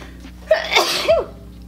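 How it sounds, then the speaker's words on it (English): A single sharp sneeze bursts out, loud and close, with a brief inhale before it and no talking. "I gotta sneeze"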